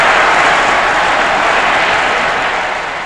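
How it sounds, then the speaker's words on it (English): A vast crowd cheers and shouts after Nasser's speech announcing that the Suez Canal was being reclaimed for the people, a dense, loud, continuous roar with no break, fading slightly at the end. "The vast crowd went wild,"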